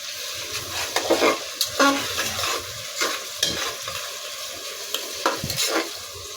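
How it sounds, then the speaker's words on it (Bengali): Onions frying in a generous amount of oil in a pot, with a steady sizzle broken by several louder stirring and scraping bursts against the pan. "পেঁয়াজটা ভেজে নিব।"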